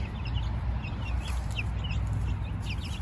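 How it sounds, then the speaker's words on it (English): Backyard chickens cluck and chirp in short bursts over a steady low rumble of outdoor background noise, with no one talking. "We have our chickens over here."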